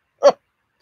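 A single short dog bark, close and clear, followed by silence.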